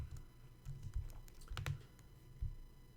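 Quiet typing on a computer keyboard, with a string of soft, uneven key clicks and a few sharper taps, close by and with no voices.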